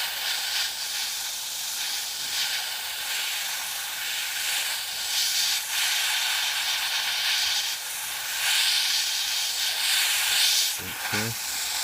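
An airbrush sprays a light coat of paint around vents and corners of a model, giving a continuous close hiss of compressed air that swells and eases in short passes, with a brief clatter near the end.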